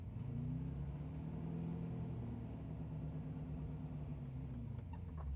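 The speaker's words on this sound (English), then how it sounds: "if I'm revving the car just to spin the fan up a little bit" A car engine is revved while stationary to spin up the radiator fan, giving a low, steady rumble that rises and falls gently, close and moderately loud with no talk.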